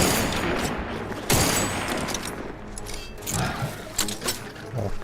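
Gunfire in The Outer Worlds 2 video game: a sharp loud shot early on, then scattered shots and thuds amid game ambience and music.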